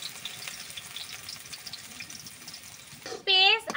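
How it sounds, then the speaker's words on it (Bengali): Onion and crushed garlic frying in oil in a wok: a soft, even sizzle runs under quiet background noise, then a brief louder tonal squeal cuts in near the end. "কড়াইয়ের মধ্যে তো তেল দিয়ে দিছি, এখন হচ্ছে পেঁয়াজ আর থেতলা করা রসুন দিয়ে দিলাম।"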